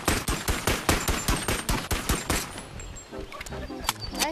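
Video game gunfire, a loud, fast volley of evenly spaced shots that thins into scattered bursts and clatter, close and dominant, with no clear talk.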